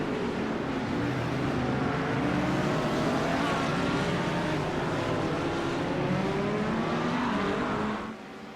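GT3 Porsche and Ferrari race cars on the Zolder circuit in a racing game, engines screaming loud and close with rising and falling revs as gears shift, a steady roar that drops off abruptly near the end.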